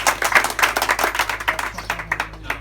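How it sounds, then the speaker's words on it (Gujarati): An audience at a gathering about desi cow farming gives a brief round of clapping in welcome, with brisk, uneven claps from a small crowd at moderate loudness. "આપણે તાળીઓથી વધાવીશું."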